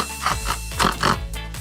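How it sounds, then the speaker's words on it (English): A farm pig grunts and oinks in a few short nasal bursts, close and moderately loud, with no talk over it. "This is a pig."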